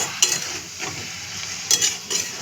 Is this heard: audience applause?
no